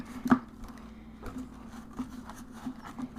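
Stiff paper index cards rustle and tap as a stack is shuffled through by hand indoors, a close, uneven patter of soft slaps and scrapes over a low steady hum, with one sharper knock near the start.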